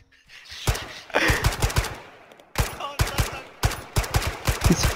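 Rapid automatic bursts of gunfire crack close and loud in an Arma 3 firefight, several volleys of sharp repeated shots separated by brief gaps.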